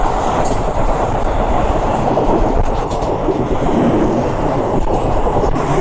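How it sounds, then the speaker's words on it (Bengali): A goods train rumbles past at a rail crossing in India, a loud, close, continuous roar of wagons with rattling wheel noise and faint rhythmic clacking throughout. "মালগাড়ির সাথে ক্রসিং দেখলেন"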